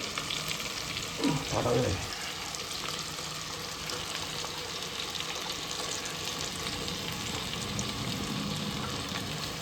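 Vegetables and dry peas fry in a pan for veg pulao, giving a steady, close sizzle throughout with a short burst of stirring clatter near the start.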